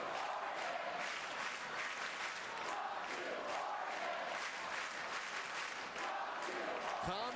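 Large stadium crowd at Hayward Field chanting in unison to recruit runner Jordan Hasay, a loud, continuous roar of massed voices with rhythmic swells, heard from within the stands over the whole stretch.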